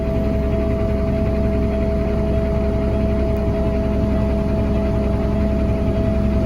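A Cummins ISX CM871 diesel engine idles in a steady, even drone with a low rumble and a constant tonal hum, loud and unchanging throughout.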